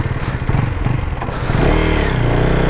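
A motorcycle engine catches and settles into a steady, close idle rumble after a brief clattering start.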